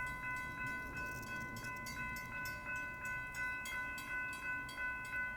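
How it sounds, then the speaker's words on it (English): A passing train heard from outdoors, with a sustained, steady rumble and a rhythmic clacking of wheels over rail joints, plus faint tonal hums, at moderate distance without speech. "because there's a train coming"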